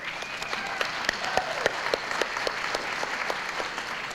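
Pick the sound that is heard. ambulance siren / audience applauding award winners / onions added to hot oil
audience applauding award winners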